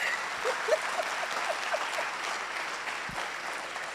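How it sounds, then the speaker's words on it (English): A graduation audience gives a brief round of applause for a chair, moderate scattered clapping heard from a distance in a hall. "Can you clap for her?"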